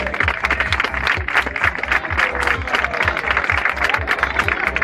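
Applause from the crowd at a children's dirt track speedway awards ceremony in El Palmar de Troya, steady dense clapping throughout with a rhythmic low engine-like thump beneath it.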